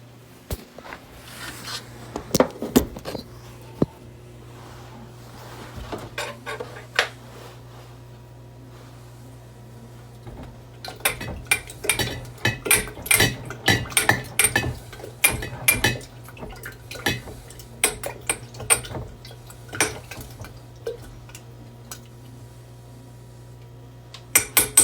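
Bananas and honey for mead are stirred in a pot, producing scattered clinks and scrapes of a utensil against the pot with wet, sloshing sounds, busier in the second half over a low steady hum.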